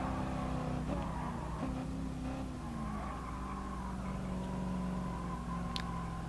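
A race car in Gran Turismo Sport powers out of a corner. The engine drones loud and continuously with shifting pitch, and faint tire squeal rises over it.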